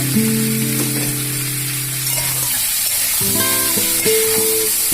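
Papaya curry with grated ginger and salt frying in a pan while being stirred, a steady sizzle running throughout with brief utensil clinks toward the end.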